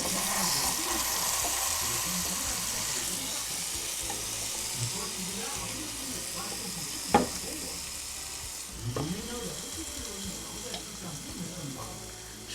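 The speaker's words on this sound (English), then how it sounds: "It's searing very nicely." Tomahawk ribeye steak searing in a pan, a loud continuous sizzle and hiss with occasional clanks from turning the meat, and someone talking over it at times.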